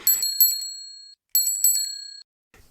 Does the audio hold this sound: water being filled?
no